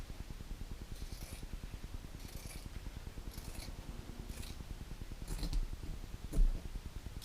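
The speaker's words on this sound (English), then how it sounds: "Now I'm going to cut this edge off so we'll have the right size fabric on the long way." Scissors cutting the edge off a piece of fabric during a craft project, a series of soft rhythmic snips with a steady crunchy texture, close and quiet, no talk.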